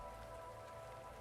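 Cold rain falls steadily on a surface in the Arknights game, a soft, even patter that stays constant and faint throughout.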